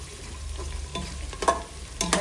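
Sliced onions frying in oil for chicken biryani, a low steady sizzle with a few short scraping stirs near the end, quiet and with no speech.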